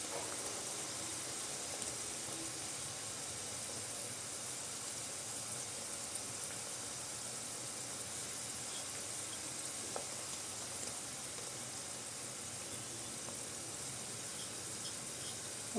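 Onion rings cut into circles deep frying alongside potato pieces in hot oil, giving a steady, even sizzle that holds at a low level throughout with no voices.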